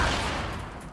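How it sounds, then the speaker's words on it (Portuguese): Rapid gunfire in the video game Fortnite Battle Royale, a dense, continuous burst of shots that fades slightly toward the end. "tô tomando um tiro"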